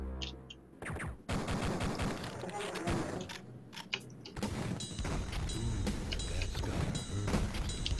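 Gunfire in the shooter game Duke Nukem 3D during level E3M04, L.A. Rumble, with bursts of shots and explosive game effects layered over continuous game sound, under a player's commentary.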